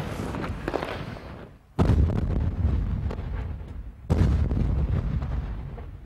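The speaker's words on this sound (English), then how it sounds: "He decides to call in an airstrike." Airstrike explosions in Falluja: two deep, sudden booms a few seconds apart, each followed by a sustained rumble over wind noise.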